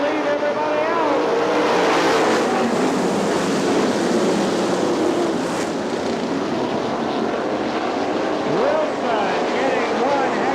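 AVSS 410 sprint cars roar off at the start of a race at Butler Motor Speedway in Quincy, Michigan, in a loud, sustained engine blare with rising and falling tones as the field pulls away.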